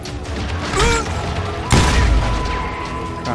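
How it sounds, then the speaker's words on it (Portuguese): Gunfire from the western shooter game Call of Juarez: Gunslinger, a dense burst of shots and impacts with a loud bang near the middle, layered over continuous game noise. "já estão atirando em mim"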